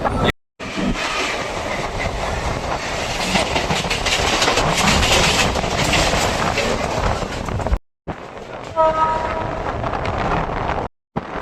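A Kalyani local train from BBD Bag rumbles loudly with steady clickety-clack and wind buffeting as it runs into Jagaddal station's platform 1, the noise briefly cutting out twice.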